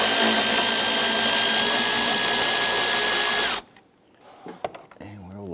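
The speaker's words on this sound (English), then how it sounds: "Using our extension and swivel socket, we're going to go ahead and get to this upper back bolt" A ratchet with an extension and swivel socket backing out an upper bolt on a 2011-2021 Jeep Grand Cherokee 3.6L whirs loudly and continuously for about three and a half seconds, then stops, leaving quieter handling clunks.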